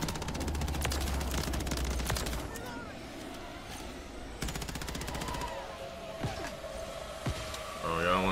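Rapid automatic gunfire from the Rival 9 in Call of Duty Modern Warfare 3 ranked multiplayer, loud bursts clustered early and again midway, with quieter game sounds between and a few sharp effects near the end.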